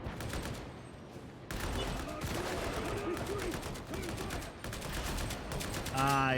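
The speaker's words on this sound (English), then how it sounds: "All I have is a machine gun meant for hordes, and I'm trying to take out a sniper with it" Machine gun fire in a video game, shot at a sniper: long sustained automatic bursts, loud and close, broken by brief pauses and running almost the whole way through, with other game sounds faintly beneath.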